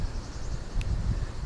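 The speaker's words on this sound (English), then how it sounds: "If you hear kind of like waves or wind, that's the water treatment plant." Steady broadband rushing from a water treatment plant, heard from outside its fence, resembling distant waves or wind; a continuous low, even wash with no speech.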